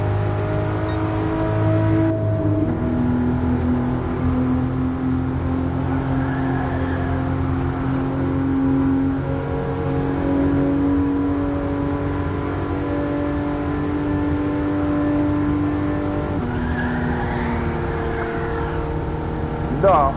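A car engine in a VR racing simulator drones and revs continuously, loud and close, with shifting pitch as it accelerates, and a voice talks over it.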